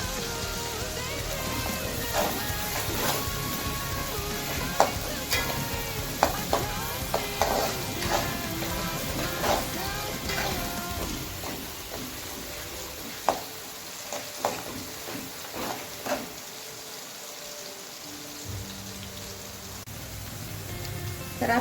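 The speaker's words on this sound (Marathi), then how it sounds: "तर आपल्याला कांदा हा तळून घ्यायचा आहे." Salted onion fries in oil until browning for chicken biryani, a continuous crackling sizzle broken by sharp ladle clicks and stirring scrapes, heard up close.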